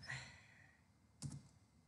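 A few quiet clicks of someone typing on a computer keyboard, with a short burst of keystrokes about two-thirds of the way through, set against a low steady room hum.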